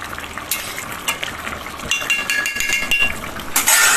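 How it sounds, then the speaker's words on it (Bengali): Rohu fish head curry with potato and pointed gourd cooking in a wok, a soft bubbling sizzle with occasional scraping and clinks of a utensil against the pan, fairly close. "আর এই যে কড়াতে হচ্ছে রুই মাছের মাথা দিয়ে আলু পটল দিয়ে ঝাল"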